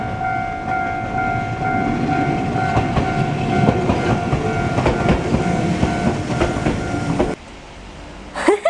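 Train rumbling past close by in light rain, a loud sustained roar with rhythmic clatter of wheels and a steady tonal hum, building and holding for several seconds before cutting off abruptly as the cars clear.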